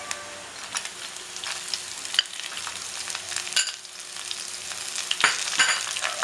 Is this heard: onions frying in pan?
yes